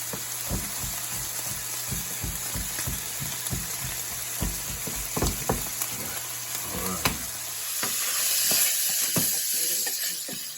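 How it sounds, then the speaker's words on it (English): Garlic cloves frying in a pan on a gas stove, a steady sizzle with a hiss that swells toward the end, broken by repeated stirring clicks and scrapes. "I'm gonna put about 3 cloves of garlic in there."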